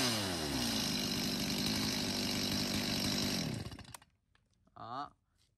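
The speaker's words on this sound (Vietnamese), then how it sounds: "vừa rồi cửa hàng chúng em đã giới thiệu cho anh em là 8 con máy cưa xích" A used Japanese-import petrol chainsaw runs loud and steady at close range with a constant engine drone for about three and a half seconds, then cuts out, followed by a brief faint rattle.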